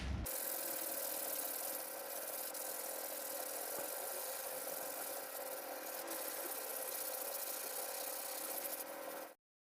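Steady abrasive rasping of a sanding block worked over cured body filler on a collision-damaged car panel, continuous and close for the whole stretch with no talk, ending abruptly.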